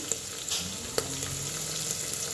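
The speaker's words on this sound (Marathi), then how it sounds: "आता टाकूया बघा हिरवी मिरची" Green chillies hitting hot oil in a pan while masala rice is cooked, a close, steady crackling sizzle with a few sharp pops and spatters, no voices over it.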